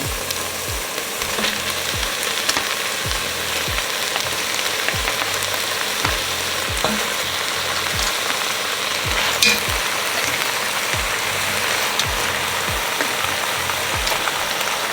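Beef neck bones sizzling with tomato paste in a pot, a steady loud frying hiss with faint scraping stirs throughout and no talking.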